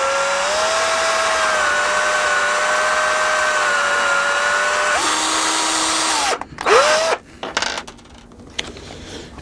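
A power drill bores a hole through half-inch BC plywood with a loud, steady whine. Its pitch drops as the bit bites and breaks through, then the motor stops, leaving brief clattering handling sounds.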